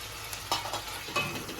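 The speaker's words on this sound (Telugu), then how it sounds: "వేసుకొని 2 నిమిషాలు ఇలా వేగనివ్వాలి" Tomato pieces sizzle and fry in a pan while a spoon stirs through them, a steady close crackle with two brief louder scrapes.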